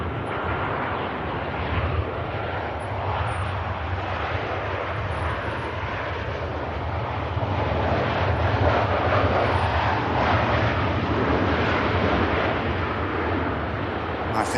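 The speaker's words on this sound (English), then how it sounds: "Here's the Ryanair from Marrakesh." A Ryanair jet arriving from Marrakesh lands at Manchester Airport, its engines a steady, broad roar that holds evenly from start to finish at moderate distance, with no voices over it.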